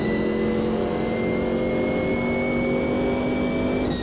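A Sauber C9 race car accelerates hard around the historic Spa circuit in a racing game, its engine a loud, steady high-pitched drone with a rising whine and no voices over it.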